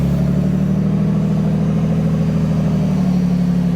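An off-road rig without a rear locker crawls up a steep wall on the Sand Hollow trail. Its engine holds a steady, loud, close low drone with a throbbing beat and does not stop, and no one talks.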